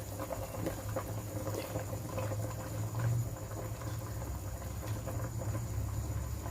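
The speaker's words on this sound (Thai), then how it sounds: "นี่ เดือดแล้ว" Chicken soup with chamuang leaves boils in a pot with a steady, soft bubbling patter. The sound is close and continuous, with no talk.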